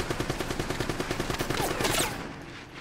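In Uncharted: Drake's Fortune, a rapid automatic burst fires in a quick, even rhythm of close, sharp shots, building to a heavier crackle before cutting off into fading echo.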